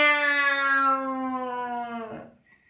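A cat lets out one long, drawn-out, wailing meow, loud and close, with a steady pitch that trails off and fades away, heard alone.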